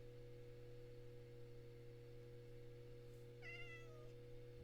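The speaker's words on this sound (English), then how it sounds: "Shut up, cat." A cat meows in a short harmonic call that drifts downward near the end, close and fairly clear over a steady electronic hum, inside a Minecraft game world.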